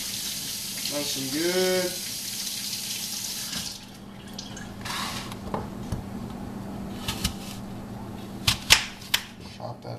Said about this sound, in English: Wash it off with some water.